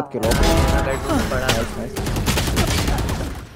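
Rapid bursts of gunfire in the competitive shooter Valorant crackle loud and close, with several shots clustered near the start, while players talk excitedly over the action.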